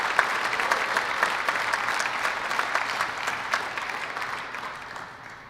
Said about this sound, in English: Please give a final round of applause for all of the Aviation Fiscal Year 2023 Instructors of the Year.